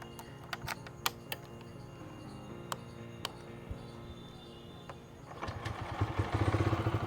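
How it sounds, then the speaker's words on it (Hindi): Several sharp ticking clicks, then a Bajaj CNG motorcycle engine cranks and catches, settling into a low, throbbing exhaust idle that grows louder. "चलो बाइक को स्टार्ट कर लेते हैं, इंजन साउंड सुन लेते हैं, एग्जॉस्ट नोट सुन लेते हैं"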